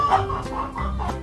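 Several chickens cluck in a short burst of quick, close clucks in a cartoon-like farmyard scene.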